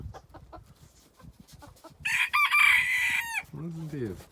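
Birds on a shop roof: a few soft clucks and calls, then a loud, drawn-out rooster crow close by, followed by a lower, wavering squawk.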